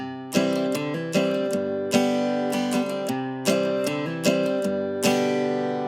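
A keyboard plays a repeating chord pattern with quick added notes hammered on after each strike, imitating a guitar's ringing open strings.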